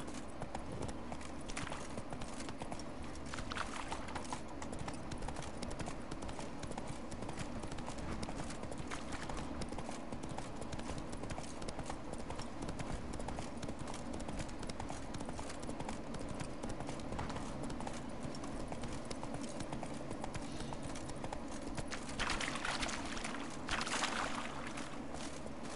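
Hooves of a horse in The Witcher 3 clip-clop steadily for the whole stretch, a continuous rhythmic trot at moderate level over game ambience, with no speech.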